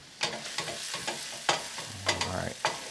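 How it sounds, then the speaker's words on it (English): Salted onions sweating in a pan give a low sizzle under a series of rhythmic spoon scrapes and taps, close and fairly quiet, with no talking. "I always like to add a little bit of salt when we're sweating onions"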